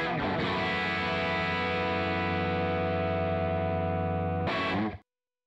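Test tones and guitar parts played through a Matchless tube amplifier as it is captured with an IK Multimedia Tone X: a loud, sustained distorted chord rings steadily, then a brief sharp burst before it cuts off abruptly.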